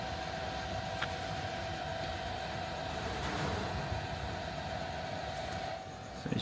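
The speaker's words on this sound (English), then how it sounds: "because I've got it set to quite a high temperature, the fans come on" The fan of a Masterbuilt 800 smoker runs at a high temperature setting, giving a steady, moderately quiet whir with a constant tonal hum throughout.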